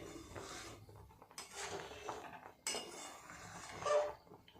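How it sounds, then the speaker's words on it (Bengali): A spoon stirs milk in a pot for dudh puli pitha, giving quiet, intermittent scrapes and light metallic clinks against the pot with short pauses between strokes. "ভালো করে আরেকটু এইভাবে নেড়ে দেব মাঝে মাঝে কিন্তু ঘেটে দিতে হবে যাতে নিচে লেগে না যায়"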